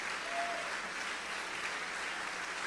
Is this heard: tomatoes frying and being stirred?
no